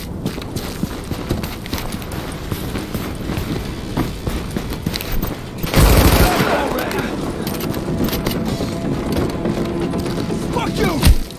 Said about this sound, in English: Shit, we're getting shot at!